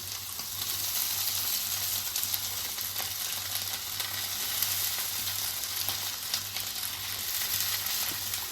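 Soaked sago being stirred in a frying pan for sabu khichuri, under a continuous even sizzle with a low steady hum and occasional faint scrapes.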